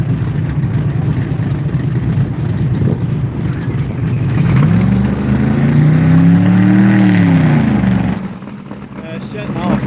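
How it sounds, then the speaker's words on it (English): A drag race car at the Sick Week event in Gainesville, Florida, rumbles loudly, its engine rising into a swelling, wavering spool-up, then cutting out abruptly, leaving a sudden drop in sound near the end. "The car keeps dying when he tries to spool it up."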